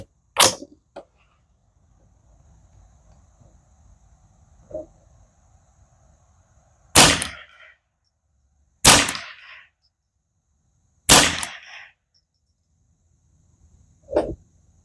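A custom Ruger 10/22 rifle fires CCI SK Standard Plus .22 rounds outdoors: five sharp, spaced cracks, each with a short ringing tail, loud and close over a quiet background, with a faint knock or two between shots.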